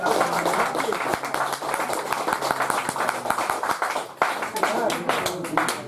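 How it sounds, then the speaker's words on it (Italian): Applause rings out at an outdoor poetry contest, with many sharp, close hand claps sounding in an uneven rhythm. It briefly dips near the end, and voices talk underneath. "Penso che un applauso se lo meritano davvero"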